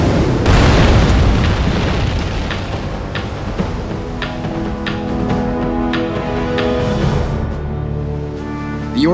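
A huge explosion rocks the aircraft carrier Yorktown during a Battlestations: Midway sea battle, a loud sustained roar followed by several sharp booms and secondary blasts over a low rumbling background.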